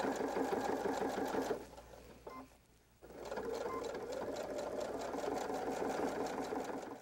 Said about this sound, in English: So we'll sew this half, and then we'll go ahead and sew the second half